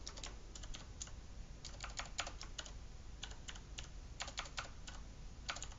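Rapid bursts of keystrokes on a computer keyboard while writing Android Auto media browser code, close and steady with brief pauses between runs of typing, over a low background hum and no voices.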